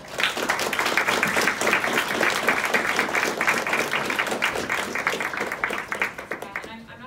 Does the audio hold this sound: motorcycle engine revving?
no